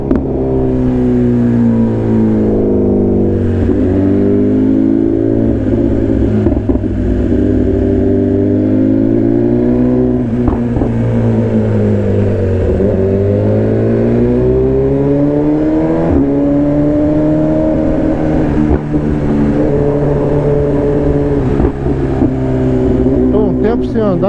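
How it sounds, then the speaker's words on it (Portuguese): A motorcycle engine drones steadily and loudly throughout a ride, its pitch rising and falling smoothly as the rider accelerates and eases off, a continuous close-up hum with wind noise. "Tô um tempo sem andar de moto."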